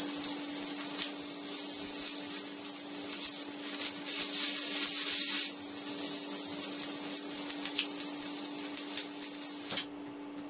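An IGBT half-bridge driving a transformer at full power on 240 volts gives a steady, loud electrical buzz with a piercing high whine for about ten seconds, then cuts off abruptly.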